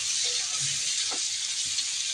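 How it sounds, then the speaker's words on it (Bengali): Pointed gourd pieces fry in hot oil in a wok with a steady, hissing sizzle throughout, broken by a few faint clinks and stirring touches. "পটলগুলো আমি ভেজে নিচ্ছি।"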